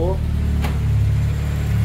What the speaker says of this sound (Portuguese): Agora eu vou dar uma partida nele aqui pra mostrar pra vocês